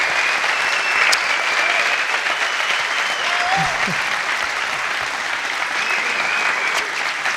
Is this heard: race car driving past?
no